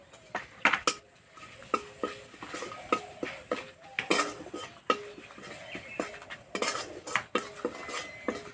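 A spice masala of turmeric, cumin, chili, coriander and garam masala powders is stirred and fried in a pan, with sharp, uneven clinks and scrapes of a metal utensil against the pan over a faint sizzle and no talk.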